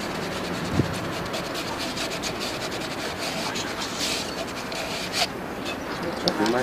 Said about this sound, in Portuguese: Depois você vai lixar as pontas dos tubos e as bolsas das conexões.